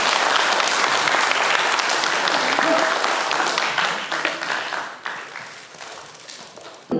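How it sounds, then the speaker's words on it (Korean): Audience applause at a Korean Patriotic Martyrs' Day memorial ceremony in Daegu as an award recipient is honored, loud continuous clapping that gradually thins and fades. "큰 박수 부탁드립니다"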